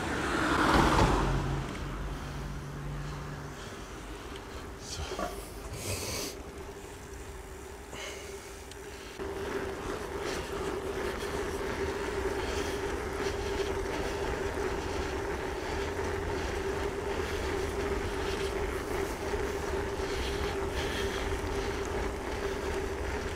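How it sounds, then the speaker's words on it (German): Steady wind rushing over the microphone of a cyclist riding through the Odenwald, a broad continuous roar with a low hum underneath that grows slightly louder partway through. "Ja, ja, schöner Wind."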